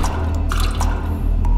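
Water sloshing and dripping inside a watering can in a video game, a steady close liquid trickle with soft drips over a constant low background hum.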